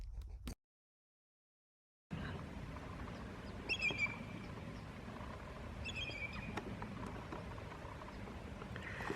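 Faint, distant high-pitched chittering calls from a bald eagle, heard twice in short bursts over soft outdoor background noise.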